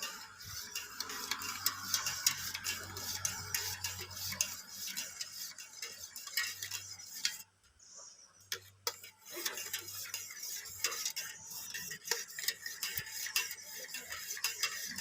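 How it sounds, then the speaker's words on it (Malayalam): A yeast and sugar mixture for homemade plant fertilizer stirred in a container, giving a continuous close scraping swish with small clinks, briefly pausing midway before resuming. "ഇനി നമ്മളത് നന്നായിട്ട് ഇളക്കി കൊടുക്കണം"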